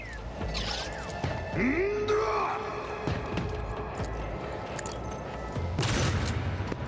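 Plasma rifle fire in Warhammer 40k: Rogue Trader comes as dense bursts of energy blasts with sweeping whines over a busy battle bed, loud and close, with no talk.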